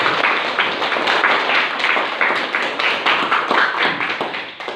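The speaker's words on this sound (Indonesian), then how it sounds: "Kita beri aplaus untuk semua kelompok yang sudah tampil." A classroom group claps for student presentations, steady dense applause from many hands lasting throughout, close and fairly loud.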